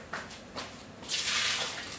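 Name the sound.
hot water dumped out of a mug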